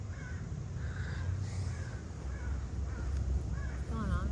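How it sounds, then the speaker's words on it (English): Crow cawing outdoors in a field, a series of loud harsh caws repeating at irregular intervals over steady background noise, with a voice talking faintly beneath. "What's going on with that crow? The crow's going nuts, you guys."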